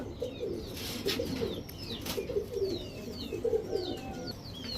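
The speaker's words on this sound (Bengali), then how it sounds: "এগুলো কিন্তু ছাড়াছাড়ি লাইনের কবুতর" Pakistani Teddy and Lalpatti Giribaz pigeons coo near the listener in repeated low, rolling calls, with light chirps and rustles mixed in.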